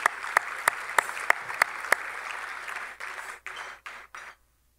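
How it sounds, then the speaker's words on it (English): An audience at a gymnastics Hall of Fame induction ceremony applauds the committee, the clapping punctuated by loud close claps before thinning into scattered claps and cutting off. "Big round of applause for our committee."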